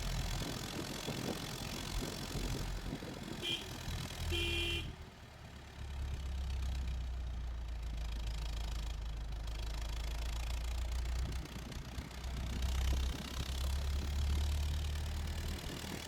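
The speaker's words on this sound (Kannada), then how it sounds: "ಅಂತೂ ಜೀಪ್ ಹತ್ತಿದ್ದಾಯ್ತು. ಹೋಗ್ತಾ ಇದ್ದೀವಿ." A jeep engine runs steadily at low revs while climbing slowly along a foggy hill road, a continuous deep rumble with light vibration and no voices.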